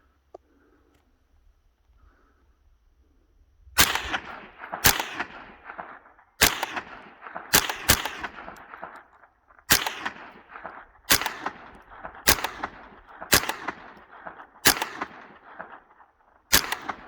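Gunshots fired outdoors on a trail, about a dozen sharp loud cracks at irregular intervals with short decaying echoes, after a few quiet seconds at the start.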